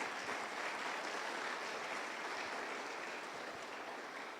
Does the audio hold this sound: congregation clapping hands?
yes